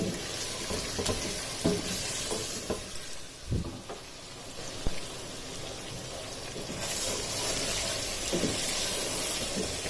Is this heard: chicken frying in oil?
yes